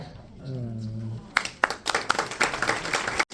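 A voice speaks briefly, then audience applause breaks out at a storytelling event, crackly clapping from a crowd that builds into steady moderate-level applause before cutting off.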